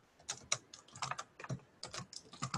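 Quick bursts of typing on a computer keyboard while entering commands at an Oracle SQL prompt during a database lab, uneven clusters of clicky keystrokes, close and fairly quiet with no talking.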